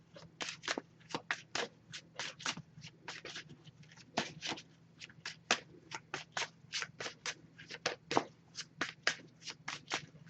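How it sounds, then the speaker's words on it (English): Rapid, crisp riffling of an oracle card deck shuffled by hand, a steady run of papery bursts close up, with a low hum underneath and no talking. "I'm going to shuffle this a bit"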